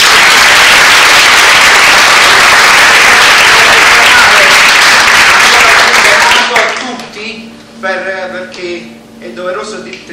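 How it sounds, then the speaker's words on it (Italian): Applause from an audience after a theatre recital, a dense, loud wash of clapping for about six seconds that then stops abruptly, followed by a voice addressing the crowd. "dare un grande applauso a queste persone che veramente si sono impegnate, hanno dato tutto."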